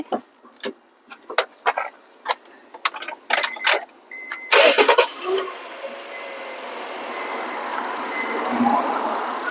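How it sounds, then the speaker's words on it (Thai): A 2013 Honda Brio Amaze with a 1.2-litre four-cylinder engine and automatic transmission starts up after some clicks and clunks, then settles into a steady, smooth idle that continues to the end. "เดี๋ยวเราฟังเสียงเครื่อง"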